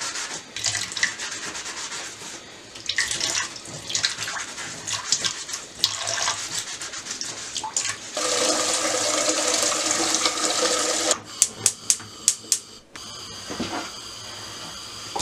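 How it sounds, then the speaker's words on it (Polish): Potatoes being washed and rubbed by hand under a strongly running tap, giving a continuous rush of water with scrubbing and rubbing sounds, a brief series of knocks near the end, and no talk. "myję wszystkie, za mocno wodę puściłem"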